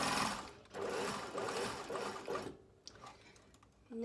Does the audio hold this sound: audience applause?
no